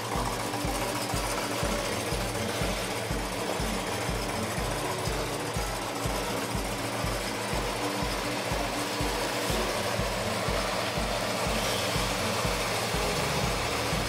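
A 1970 Plymouth Road Runner convertible's V8 idles steadily and loud, with a regular lumpy pulse throughout and no voices.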